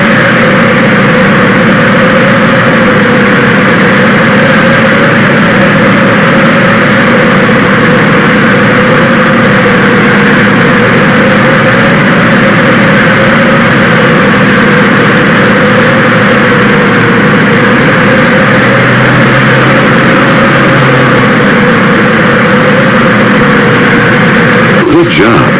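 Ultralight aircraft engine in a flight simulator game, a loud, steady droning hum that holds constant throughout with only slight shifts in pitch, under a voice giving instructions.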